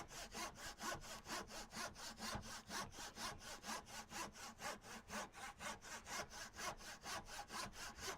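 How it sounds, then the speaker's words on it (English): A crosscut hand saw works through wood for a gate latch, with close, steady back-and-forth rasping strokes at roughly four per second, continuous and without talk. "Now, this is a crosscut saw, not a rip. That's why it's taking a while."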